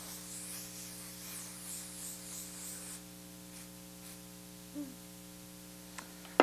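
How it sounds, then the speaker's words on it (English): A hairspray aerosol sprays onto hair being set in pin curls, giving a steady close hiss for about three seconds before stopping, with a constant electrical hum underneath throughout. "Give her another little hairspray."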